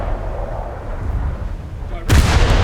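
A destroyer in a naval warfare game fires its guns at the frigate Akebono, a sudden loud booming salvo that bursts out after a stretch of low engine and water rumble.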